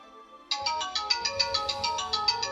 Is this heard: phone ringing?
yes